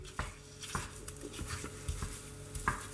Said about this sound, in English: breaking up our mincemeat into small little pieces and frying this.